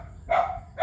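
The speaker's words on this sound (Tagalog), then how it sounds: "Tinatahol-tahol yung mga dumadaan-daan." A dog barks at people passing by, two short close barks about half a second apart, the second cut off at the end, over a low background rumble.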